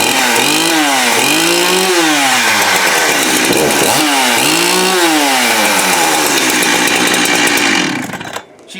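A vintage chainsaw, one of an all-metal Echo, Jonsered 70e or Husqvarna 572XP, runs loud and close, its two-stroke engine revving up and down in repeated swells before cutting off abruptly near the end.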